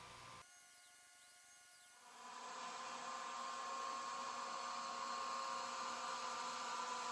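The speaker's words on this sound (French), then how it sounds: "Petite note pour mes découpes, j'ai utilisé l'assistance d'air que je vous recommande fortement." Air assist on an Atomstack A24 Pro laser cutter blowing steadily, a broadband hiss with a faint whine that rises in strength after about two seconds and then holds constant, close and alone.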